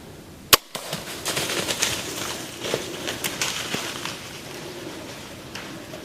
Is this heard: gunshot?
yes